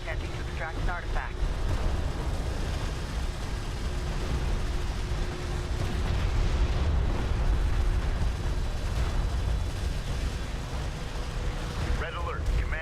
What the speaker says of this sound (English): Red alert. Command carrier taking fire. Our carrier has sustained terminal damage.